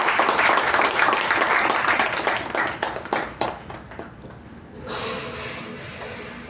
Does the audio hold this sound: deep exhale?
no